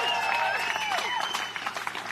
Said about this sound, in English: And one more round of applause to that amazing team,